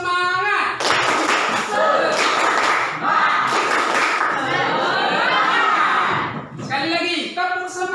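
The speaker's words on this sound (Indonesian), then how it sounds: "kita melakukan tepuk semangat" Indonesian classroom pupils perform the tepuk semangat rhythmic clapping chant, loud bursts of patterned hand claps mixed with children's voices chanting together, with short spoken pauses between rounds.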